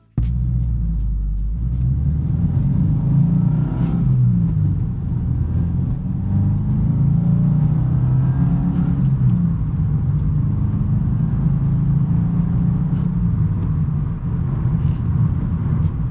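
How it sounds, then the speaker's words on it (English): A stock 2022 Subaru WRX driving on the road, heard from inside as a steady, loud low engine and road rumble with a slight rise in revs, and no voices. "Let's take this thing on the road and check out its performance and handling within the legal limits."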